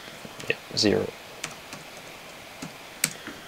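Typing on a laptop keyboard, with scattered soft key clicks and taps at irregular intervals and a brief vocal sound early on, fairly quiet and close.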